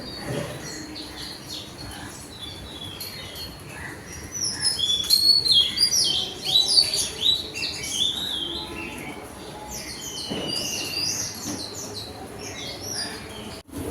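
Small birds chirp and twitter in a busy, overlapping chorus, rising midway and then thinning out over a steady hiss of outdoor ambience.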